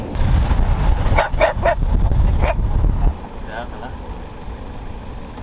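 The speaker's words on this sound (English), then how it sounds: "There's 1, 2, 3 dogs in there." Several dogs barking in short bursts from a pen or enclosure near an off-grid campervan spot in Portugal, loud and close over a low rumbling background, then fading to quieter ambience.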